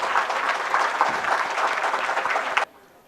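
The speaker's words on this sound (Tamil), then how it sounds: "அனைவரும் ஒரு நிமிடம் எழுந்து நின்று ஒரு பலத்த கரகோஷம் அனுப்புமாறு உங்களை அன்போடு கேட்டுக்கொள்கின்றேன்" A standing audience at a book launch event for V. Irai Anbu gives a strong, dense round of applause that runs steadily for about two and a half seconds, then cuts off sharply into near silence.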